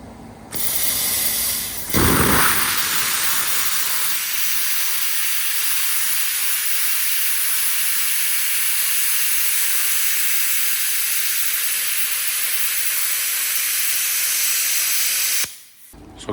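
Welding on a steel shed frame gives a loud, steady hiss that runs unbroken for about thirteen seconds before cutting off, with no talking over it.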